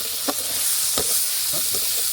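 Garlic paste sizzles in a hot pan for biryani, a steady bright frying hiss with a few soft stirring scrapes, close and continuous.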